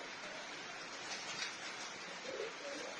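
Pigeons coo faintly and softly in a couple of short low calls beneath a steady broadband hiss of outdoor noise.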